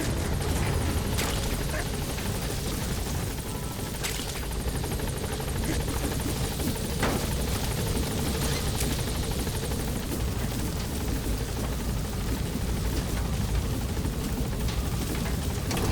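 A helicopter hovers near a landing zone in the video game Metal Gear Solid V, its rotor producing a loud, continuous, dense roar throughout, with radio-style voice chatter over it.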